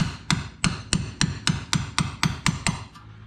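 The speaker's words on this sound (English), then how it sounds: "big socket that fits that really good to tap on once I get it started" Sharp metallic taps of a big socket hammered to drive a rear axle seal into a 2019 Can-Am Outlander 1000R XT, about ten evenly spaced strikes close up, with no talking.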